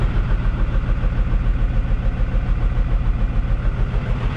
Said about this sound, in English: it's just happy purring along here at a lower idle